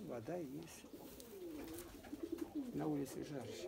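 Pigeons cooing in a dovecote on a hot summer day, several soft rolling coos close by, heard under a person talking.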